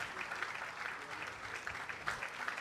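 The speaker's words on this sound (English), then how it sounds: "let's do one more big round of applause" An audience applauds at the Millennium Excellence Awards ceremony, with steady, dense clapping from a large crowd and a few louder claps standing out.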